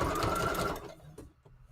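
A sewing machine stitches through a paper tag for a junk journal, a dense, fast mechanical whirring for under a second before stopping abruptly, followed by faint clicks and quiet handling.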